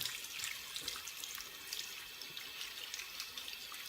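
Paint brushes rinsed under a running kitchen tap: a steady hiss of flowing water splashing into a sink, close and continuous, with faint dribbles and no voices.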